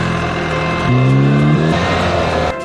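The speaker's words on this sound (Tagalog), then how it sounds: "Ganito ang pagsakay sa motor ng mabilis." A BMW 1300GS motorcycle accelerates hard, its engine note rising through a couple of quick gear pulls, loud and close, with the revs climbing sharply before dropping off at the end.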